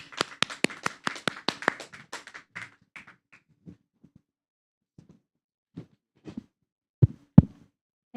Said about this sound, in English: So give a good round of applause for Toastmaster Sinta.